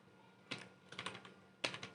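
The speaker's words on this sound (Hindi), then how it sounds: "यहाँ सर्च में आपको करना है टाइप" Typing into a search box on a keyboard, with short bursts of quick clicky keystrokes separated by pauses, close and fairly quiet.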